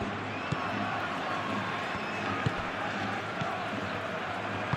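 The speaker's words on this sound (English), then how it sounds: "Now the crowd are demanding that they just finish this off." Steady stadium crowd roar from the football game PES 21 during a simulated Real Madrid versus Manchester City Champions League match, a constant wash of noise with a few faint thumps, under a commentator's voice.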